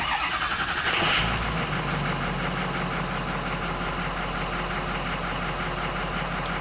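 A Ford E450 with the 6.0L diesel engine starts up and settles into a steady, loud, rumbling idle close by, with a broadband clatter that carries on without a break.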